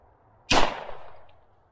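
A shotgun firing an exotic shell loaded with spaghetti squash: a single sharp, loud blast that cuts in abruptly and decays over about a second, with no other sound around it.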